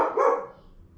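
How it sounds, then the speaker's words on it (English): A single loud dog bark close by, trailing off quickly into quiet. "Sorry about the dog in the background."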